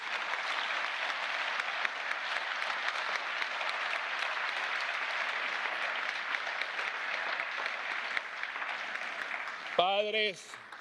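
Steady audience applause fills a European Parliament Sakharov Prize ceremony hall at moderate distance for about ten seconds, then a voice briefly begins speaking as it ends.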